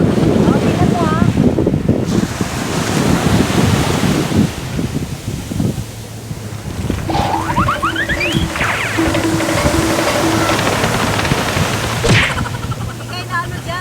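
Strong surf pounds Unawatuna beach in Sri Lanka, a steady roar of crashing waves and rushing water with heavy wind buffeting the microphone and faint voices in the background.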